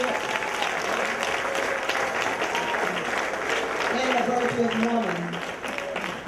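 An audience at the Paul Brown recognition program applauds scholarship recipients with a sustained, even wash of clapping. A voice speaks briefly over the applause.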